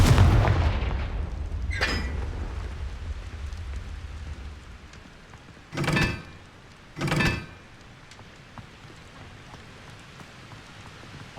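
The Confringo fire spell is cast in the video game Hogwarts Legacy: a rumbling blast at the start, then three sharp whooshing explosive bursts spaced a few seconds apart against quiet ambience.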